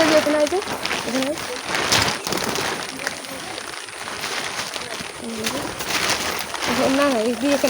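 Pigeons coo softly in repeated throaty phrases close by, while people talk over them and rustling and knocking fill the background.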